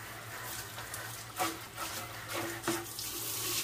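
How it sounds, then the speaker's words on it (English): Cold tap water runs steadily into a container being rinsed for winemaking, a faint, close splashing wash with a few louder sloshes partway through and no voices. "I rinse it out real good with some cold water."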